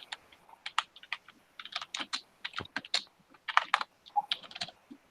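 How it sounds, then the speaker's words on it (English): Someone types on a computer keyboard nearby, quick irregular bursts of key clicks with brief pauses between words. "Who's typing?"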